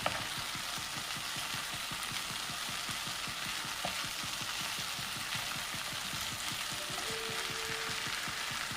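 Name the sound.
fish pieces frying in oil in a pan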